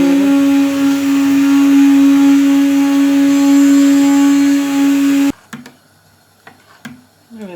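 A loud, steady motorized whir of a blender puréeing red lentil soup runs for several seconds, then cuts off abruptly, leaving quiet clinks and small handling sounds.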